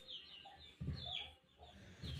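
A broody hen sitting on a clutch of twelve eggs clucks in low, soft bursts, close by, with short pauses between the throaty murmurs.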